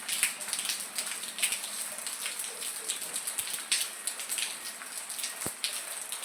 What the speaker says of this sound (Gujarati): વરસાદ છે ને હટાણામાં ધબધબાટી બોલાવે છે આવા શિયાળામાં.